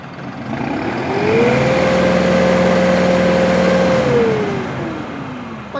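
A New Holland 5620 tractor engine revs up to about 2500 rpm, holds a steady high drone for a few seconds, then winds back down, loud and close with no talking.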